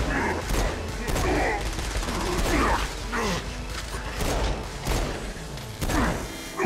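Rapid gunfire and explosions clatter through a chaotic demon battle in the video game Saints Row: Gat Out of Hell, with bursts of shots and thuds close and loud throughout.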